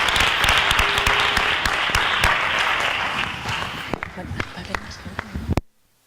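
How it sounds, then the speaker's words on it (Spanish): Loud, sustained applause from an audience at a community arts campus event thins out toward the end into a few scattered claps before stopping abruptly. "un fuerte aplauso"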